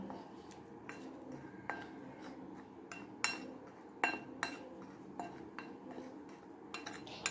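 Spoon clinking against a bowl while fried bitter gourd snack is tossed with chili flakes, giving scattered light taps and scrapes at close range over a faint background hiss, with no talking.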